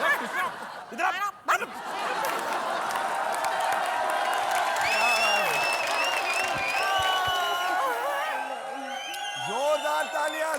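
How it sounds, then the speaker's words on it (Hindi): Audience clapping and cheering at a comedy show, a moderate steady wash of applause mixed with laughter, while performers talk over it. "जोरदार तालियां, जोरदार तालियां।"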